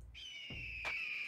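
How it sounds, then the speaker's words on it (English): Eagle song from the video game My Singing Monsters: a sustained, bright whistle-like tone holding steady for about a second, with a brief breathy burst near the end. "It's a eagle song!"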